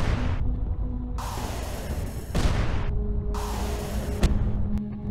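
Explosions in the video game UnMetal sound as a few booming blasts with hissing, crackling tails, separated by short gaps, loud and close over low game ambience with no speech.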